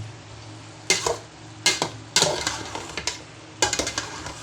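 Bottle gourd (upo) sautés in a pan, a low background sizzle broken by several sharp clattering bursts of stirring and scraping against the pan, close by, with no voices.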